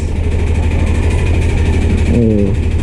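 A Honda Click scooter engine with a faulty ignition idles with a steady low rumble and vibration, and a brief rising whine near the end.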